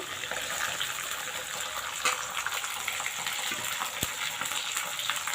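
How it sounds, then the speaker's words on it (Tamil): Shallots, garlic and curry leaves sautéing in oil for an eggplant kuzhambu, a steady close hiss of frying with a few faint clicks of stirring throughout. "நல்லா வதக்கி விட்டுடலாம் இது லைட்டாக வதங்கட்டும்"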